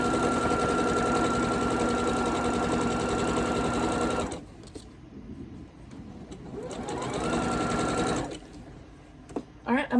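A sewing machine stitching quilt pieces runs loud and steady for several seconds, stops, then whirs up again for a second burst before halting, with a few small clicks near the end.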